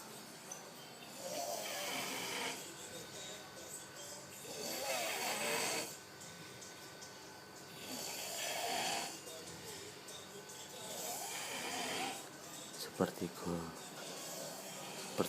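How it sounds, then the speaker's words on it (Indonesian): Several people snore loudly while asleep, long rasping breaths rising and falling in a slow regular rhythm, about every three seconds, followed by a few brief sharp noises near the end. "Seperti sapi ngorok-ngorok."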